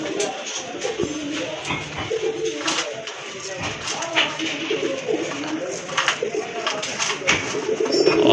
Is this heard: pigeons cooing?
yes